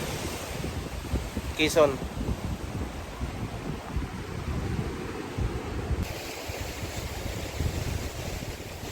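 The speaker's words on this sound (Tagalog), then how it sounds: "Problema lang, malakas ang hangin." Strong wind buffets the microphone at the seashore in Real, Quezon, with surf washing in the background and someone speaking briefly over the gusts.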